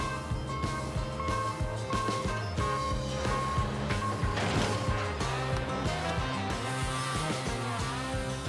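A road train truck in the outback reversing to hook up its trailers, repeated reversing beeps over a rumbling diesel engine with clanks and air hiss, moderately distant.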